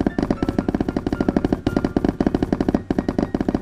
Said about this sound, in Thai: เสียงดังเสียงวางบล็อกได้แบบดังตึ๊กตึ๊กตึ๊กตึ๊กเลย